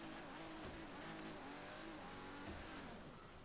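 A 100-horsepower car in the racing game Forza Horizon 3 revs hard, its engine note climbing and dropping through gear changes, steady and fairly quiet with no one speaking over it.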